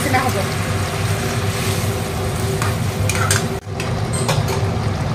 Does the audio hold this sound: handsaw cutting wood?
no